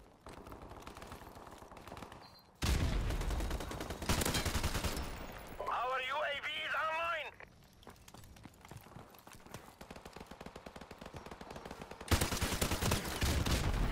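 Bursts of video game shooter gunfire, loud rapid shots in clusters broken by quieter gaps, with a voice talking over parts of the clip.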